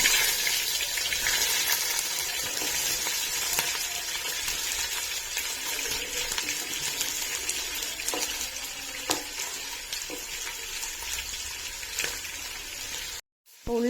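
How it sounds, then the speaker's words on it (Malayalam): Onions sautéing in oil in a pan, a steady loud sizzle that holds for most of the stretch with stirring scrapes on top, then cuts out abruptly near the end. "ഇനി ഇതിലേക്ക് ഉള്ളിയും തക്കാളിയും ഇഞ്ചി പച്ചമുളകെല്ലാം ഇട്ടൊന്ന് വഴറ്റിയെടുക്കും."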